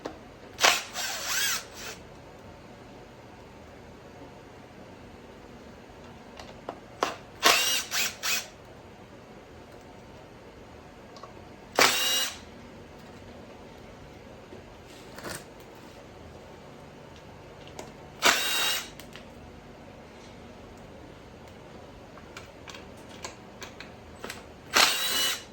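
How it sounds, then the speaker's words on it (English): A power drill backs screws out of an e-bike controller in several short bursts, close and fairly quiet, with gaps of near silence between each run. "Just take the drill and pop them out."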